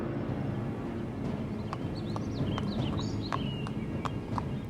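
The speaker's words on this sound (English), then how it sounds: "the survivors of the urban horses that once patrolled Times Square and pulled tourists around Central Park have fled the city" Urban horses that once pulled tourists around Central Park and patrolled Times Square, with faint, irregular hoof clip-clops over a low ambient rumble and scattered bird chirps, no voices.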